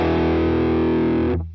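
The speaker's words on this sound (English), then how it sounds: "you get a really sort of cutting distortion." A sustained chord of sharp, cutting electric guitar distortion from a Funny Little Boxes 1991 distortion pedal with mids full rings out loud and bright, then cuts off abruptly near the end.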